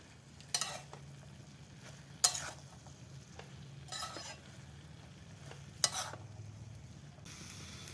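A spatula scrapes and stirs a dry vegetable filling in a hot pan with a soft sizzle underneath. The sharp scraping strokes come at irregular intervals, close and fairly quiet, with no voices.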